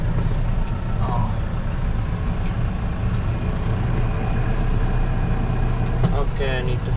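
Tractor engine running out in a pasture, a steady loud low drone close by with a few faint squeaks and clanks, and a voice talking over it.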